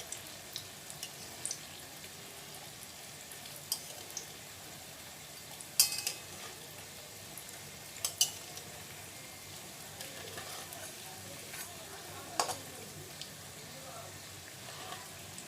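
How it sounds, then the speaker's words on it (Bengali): Egg chops fry in oil with a faint, low sizzle and occasional sharp pops and clicks spaced a few seconds apart, quiet and somewhat distant. "লাল লাল করে ভেজে নিলেই হবে।"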